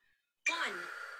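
A clarinet player exhales during a group warm-up breathing exercise, one steady breathy out-breath that starts abruptly after a near-silent pause and carries on evenly for about a second.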